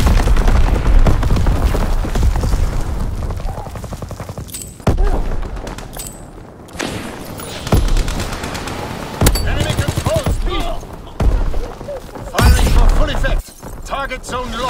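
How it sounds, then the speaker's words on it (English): Heavy battlefield combat in the World War II shooter game Call of Duty: WWII, with loud booming explosions from incoming enemy mortar fire mixed with bursts of gunfire and shouted voices, dense and continuous with sharp blasts throughout. "Enemy mortar fire incoming!"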